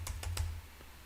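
Keys on a computer keyboard tapped three times in quick succession while typing a service name, then one fainter tap after a pause, close and fairly quiet over a low steady hum.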